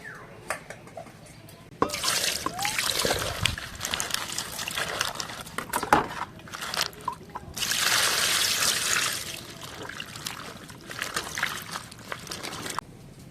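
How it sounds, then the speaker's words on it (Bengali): Water runs and splashes over spinach leaves being washed by hand, coming in uneven close bursts of pouring and trickling with short drips and quieter gaps between. "এবার পালং শাকগুলো ভালো করে ধুয়ে নেব"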